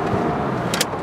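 A Volkswagen Amarok pickup drives with a steady, loud engine and road roar from inside the cab, holding an even drone with a brief rattle near the end.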